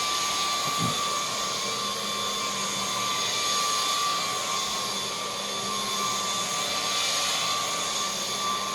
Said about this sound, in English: Do I have to power vacuum?